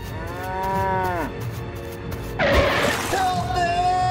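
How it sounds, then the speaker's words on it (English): A distressed cow lets out a long, loud moo, followed by a crash and a harsher, strained second bellow, close and prominent. "Oh no, the cow is trapped."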